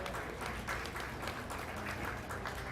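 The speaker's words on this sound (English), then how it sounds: "Let's give all those 3 kids a big round of applause." A crowd applauds at the 2024 Mills County Fair sheep show, a steady, moderately distant wash of many hands clapping together throughout, with no clear talk over it.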